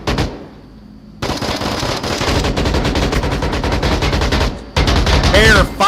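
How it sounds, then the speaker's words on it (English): Gunfire in the VR shooter Onward, loud rapid bursts of automatic shots cracking close by after a quiet start, with a short pause before another burst. "Pero popping shots."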